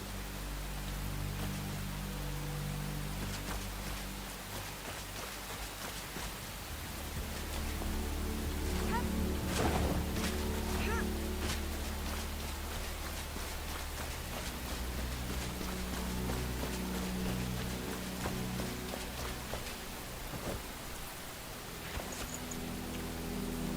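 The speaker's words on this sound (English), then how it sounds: "Rain extinguished the road lamps." Steady rain falls in the survival video game Enshrouded, a constant hiss of drops that swells slightly midway while occasional thuds and game sounds rise over it.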